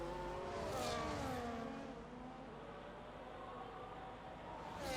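Race cars in the F1 25 video game at the Mexico City Grand Prix, high-pitched engines whining down the straight, loud and continuous, with tones sliding through gear changes and faint tire squeal.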